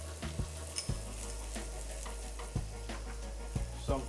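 Carrot and French beans fry in hot oil, a steady sizzle broken by repeated sharp clacks and scrapes of stirring in the pan, close and with no talking.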